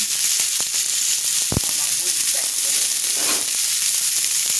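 Portobello mushrooms, red pepper, kale and red onion sizzle loudly in hot oil in a pan. The frying hiss is steady and close, broken by one sharp knock of a spoon.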